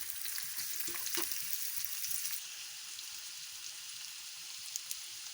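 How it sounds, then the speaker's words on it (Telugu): Green chillies and onions fry in a pan for a coconut and raw tamarind curry, giving a steady, soft sizzle with a few faint clinks. It is close and even throughout, and there is no talk. "పచ్చిమిరపకాయ, ఉల్లిపాయలు బాగా వేగాలి"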